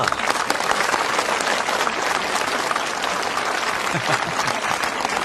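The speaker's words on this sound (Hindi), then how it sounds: "तालियां।" Loud, dense crowd applause fills the hall throughout, a sustained wash of many hands clapping together with faint voices mixed in.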